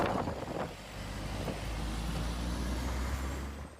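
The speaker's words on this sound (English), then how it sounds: "it was the plow trucks who were the king of the roads, clearing the streets as best they could. A loud job that needs to get done." Snow plow trucks clearing snowy streets give a loud continuous engine roar and road rumble, with a brief hiss near the start, steady throughout.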